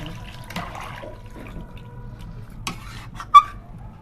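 Water is poured into a fish curry simmering in a pot, soft splashes and trickles with a few sharper clinks near the end, quiet and close with no talking.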